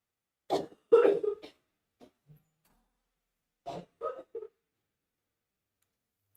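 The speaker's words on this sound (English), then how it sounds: "My niece is in the background coughing" Someone coughs in the background of a quiet room, in a few short, soft bursts with pauses between them.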